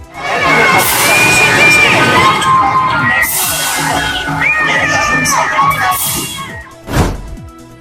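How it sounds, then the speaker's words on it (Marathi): A dense crowd of shouting, cheering voices, children among them, fills a Jain procession and temple for Mahavir Jayanti in Solapur, with a sharp burst near the end. "जैन बांधवांनी काढली मोठी शोभायात्रा जैन मंदिरात मोठी गर्दी"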